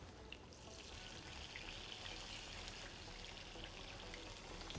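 Water added to a hot pan with garlic and carrots while cooking, a faint steady hiss and sizzle running evenly throughout with no voices.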